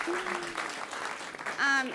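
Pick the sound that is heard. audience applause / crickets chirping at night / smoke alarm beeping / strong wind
audience applause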